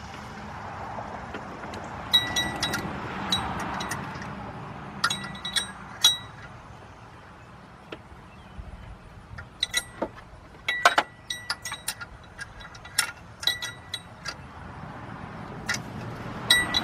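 Two steel bolts taken from an old A/C compressor on a 1997 Saturn SL1 clink and tap against metal in scattered, faint bursts over a quiet workshop background.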